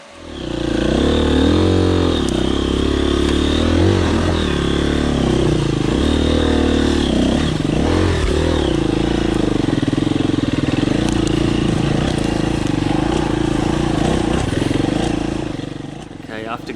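A KTM dirt bike climbing a steep, loose, rocky trail that has never been ridden, its engine loud and close and revving hard throughout, with the clatter of rocks beneath it.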